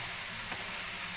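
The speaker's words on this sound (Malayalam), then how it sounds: "ഈ തിളച്ച വെള്ളം ഇതിലേക്ക് ഒഴിച്ച്" Boiling water poured into a sizzling chicken curry gives a short, even hiss of frying and bubbling, close and steady with no pause.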